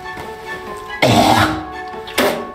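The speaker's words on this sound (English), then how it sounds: "We had to watch him cough up a hairball for a minute." In a TV drama scene, a man coughs and clears his throat as if something is stuck. Two harsh bursts come about a second apart, close and fairly loud, over a quiet background.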